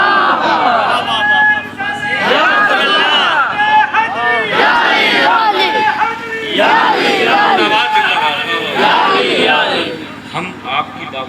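A large crowd at a religious gathering chants slogans in loud, continuous waves of massed voices that rise and fall in unison throughout.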